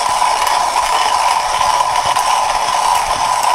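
Comandante C40 MK3 hand coffee grinder crushing beans, a loud, continuous close-up crunching and grinding rattle that stays steady throughout.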